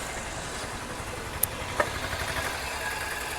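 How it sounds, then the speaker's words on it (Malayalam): Fiber fishing boat engine passing on the water near Fort Kochi, a faint, steady putter at a distance with a couple of brief sharp clicks nearby. "ആ ഒരു മീൻപിടുത്ത ഫൈബർ വള്ളം പോകുന്നുണ്ട്."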